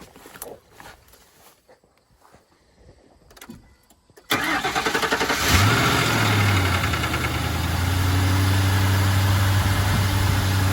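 Footsteps and faint shuffling give way to a Blazer's engine cranking and catching, then settling into a loud, steady idle with a low rumbling drone, all before a burnout.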